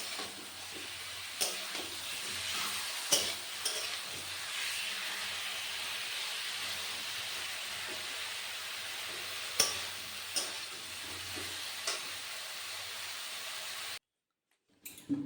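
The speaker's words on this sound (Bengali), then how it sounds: "ঢাকা দিয়ে ফুলকপিটা মশলার সাথে কষে নিয়েছি" Cauliflower frying with spices in a pan, giving a steady sizzle and hiss with intermittent scraping clacks from stirring, fairly quiet and close, ending abruptly.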